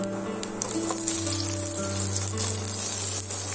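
Chopped onions sizzle with cumin in hot oil over low to medium heat, giving a close, steady frying hiss with occasional stirring and background tones, without voices.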